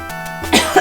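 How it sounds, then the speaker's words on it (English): One person gives a short, close cough, then a second harsher cough or throat clearing, both loud and alone. "The issue is the cough."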